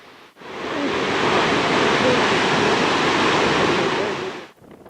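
A large waterfall near Lake Shuzenji in Japan, hidden in fog, heard as a loud, steady rushing roar that swells in, holds evenly for about four seconds, then cuts off.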